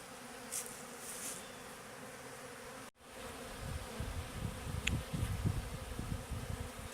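Bees robbing leftover raw honey from freshly extracted comb, a continuous buzzing swarm droning softly at a distance, with individual insects flying closer and louder toward the end.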